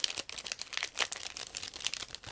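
A clear plastic bag from an ICM 1/35 model kit crinkles and rustles in quick, irregular bursts as it is handled and opened up close, with no voices.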